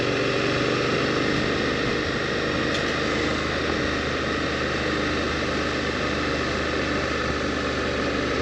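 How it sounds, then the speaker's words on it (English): A plane passing overhead along Phantom Canyon Road, a broad, steady roaring hum that stays loud and even throughout, largely drowning out other sounds, with no voices. "I think a plane just flew over."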